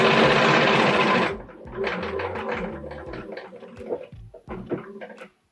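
Sewing machine quilting a stitch-in-the-ditch line near a quilt corner, a loud rapid whirring run of stitches that stops abruptly, followed by softer handling knocks and rustles of fabric.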